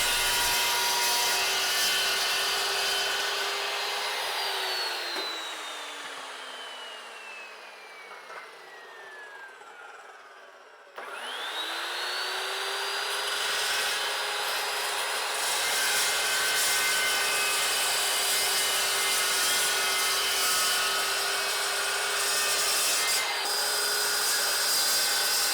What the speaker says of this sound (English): I start with making a 2-inch cut from each end with the Evolution saw